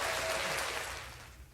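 Enthusiastic applause from a crowd, dense and loud at first and then tapering slightly, lasting just over a second and a half.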